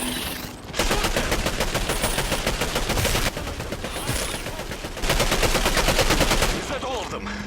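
Rapid automatic gunfire in the sci-fi shooter Singularity, dense sustained bursts of loud shots with short breaks between, close and overpowering, with faint voices underneath.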